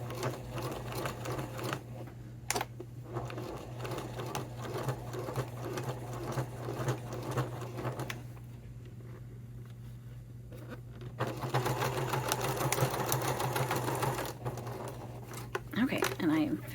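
A sewing machine stitches thick, loosely woven fabric for a wallet with a steady mechanical whir and rapid needle pattering. The stitching runs in stretches with a short pause midway, and a low hum sits underneath.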